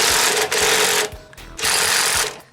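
A battery-powered impact wrench works on stuck brake drum parts of a 1967 VW Bus, firing two loud, close rattling hammering bursts separated by a short pause.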